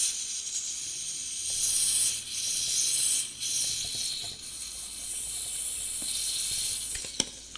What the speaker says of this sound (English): We're going to go ahead and pump some butane in here